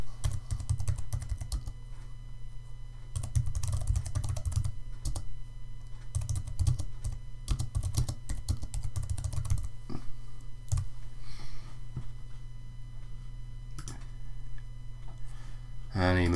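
Close, steady clicking of a computer keyboard as a title is typed, keystrokes coming in quick runs with brief gaps over a low hum, and a voice talking during part of it.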